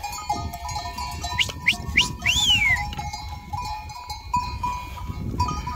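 Goats bleating while a herder gives them water, several short nearby bleats close together over a background of herd shuffling and quiet ambient noise.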